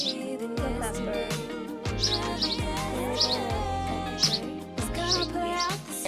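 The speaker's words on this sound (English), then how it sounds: "Oh, there's a bird right here. Look at that bird." A small bird chirps outdoors beside a birdhouse in a summer arboretum, with short bright tweets repeating every second or so over a steady background of tonal music or hum; no talking.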